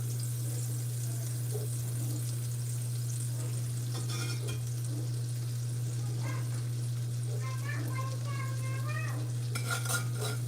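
Butter being spread around a hot pie plate to coat it for a cherry clafoutis, soft sizzling and scraping with light metallic clinks over a steady low hum, with a voice faintly talking in the background.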